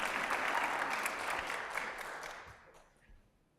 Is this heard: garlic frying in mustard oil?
no